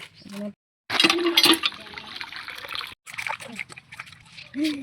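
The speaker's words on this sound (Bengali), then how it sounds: "মাছগুলো কাটা হয়ে গেছে, এখন ধোবো, ভালো করে ধুতে হবে, একটু নুন দিয়ে ধুতে হবে।" Cut snakehead fish being washed by hand with water and salt, with splashing and sloshing in bursts separated by brief pauses. A person talks between the bursts.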